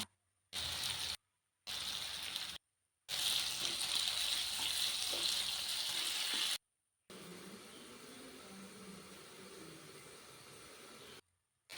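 Onion and tomato stirred in a pan for prawn biryani give a steady, close sizzle and frying hiss in several bursts separated by short silences, with no talking.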